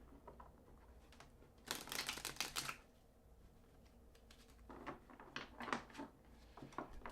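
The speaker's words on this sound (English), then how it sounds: "So I'm going to shuffle one more time here." Quiet, close riffling and tapping of cards being shuffled, in two short bursts separated by a pause.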